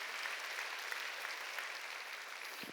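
A church congregation applauds during a Sunday worship service, a steady wash of clapping at moderate volume from a crowd with no voices over it.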